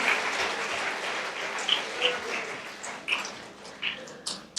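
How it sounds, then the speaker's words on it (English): Audience applause for the children at a Class 3 school forum, a steady wash of clapping with a few louder individual claps standing out over several seconds, fairly even and moderately near. "Let us clap for our children also for their hard work."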